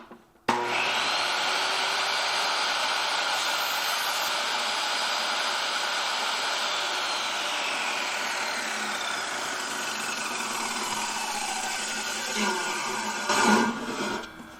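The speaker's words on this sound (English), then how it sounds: "So we're just gonna rip it 1/2 inch thick." A 2x4 being ripped lengthwise into half-inch-thick shelf boards: a loud, steady, close cutting roar that holds for the whole clip, shifting slightly in pitch partway through, then rising briefly near the end before dropping off.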